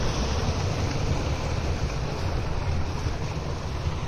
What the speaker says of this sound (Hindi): और पानी यहाँ से होता हुआ आगे जा रहा है